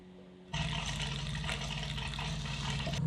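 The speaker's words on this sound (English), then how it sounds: "this thing started cranking out the water, the wastewater on this side, the completely filtered water on the white side here" A battery-powered reverse osmosis water filtration system switches on after a brief quiet moment and sends out a steady, close rush of water that runs evenly for a few seconds before cutting off.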